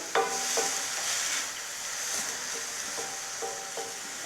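Carrot curry with a pinch of turmeric is stirred in a pan, with a soft sizzle beneath several sharp spoon scrapes and taps against the vessel at irregular intervals, close and moderately quiet.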